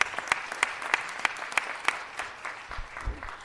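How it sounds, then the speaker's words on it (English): Applause at a city council meeting honoring a Los Angeles Food Policy Council member; scattered sharp claps ring out at a moderate distance, thinning toward the end amid low room rumble, with no talk. "let's give her a round of applause"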